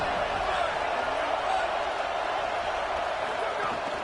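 A roaring stadium crowd at an American football game, a dense, continuous roar that stays loud and even throughout, with no distinct voices standing out.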